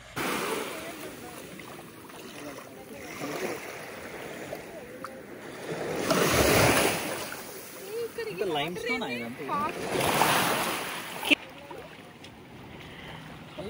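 Surf washing onto a beach, with broadband surges building around the middle and again later. Voices talk and call out over the steady rush of water throughout.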